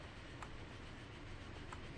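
Steam trains with matching coaches rumble along in the Transport Fever game, giving a faint, steady rolling rail noise with a couple of soft clicks.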